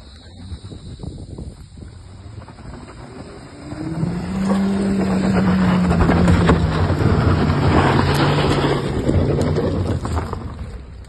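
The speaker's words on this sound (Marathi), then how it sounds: "आता इथं गाडी थोडी चढताना प्रॉब्लेम होतोय" A car engine strains to climb a rough, stone-patched slope on the way to the Gambhirnath caves near Khopoli, its revving drone swelling loud and sustained with a rising whine before easing off.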